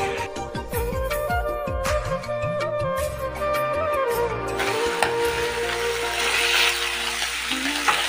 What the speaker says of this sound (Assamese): এইফালে মই সৰু মাছো ভাজি আছোঁ